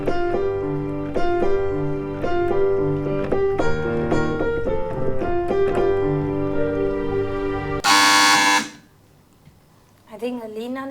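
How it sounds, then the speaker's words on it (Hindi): A quiz show buzzer is pressed: a short, loud, harsh blast cuts off the tonal music that has been playing, then silence, and a voice begins talking. "आई थिंक अलीना ने पहले प्रेस किया है बजर"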